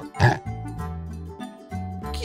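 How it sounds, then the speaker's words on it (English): A pig gives a short oinking grunt near the start, on a farm, with steady background music continuing underneath throughout. "Pig."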